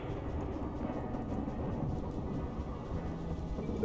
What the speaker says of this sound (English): Oh, the rain's coming now.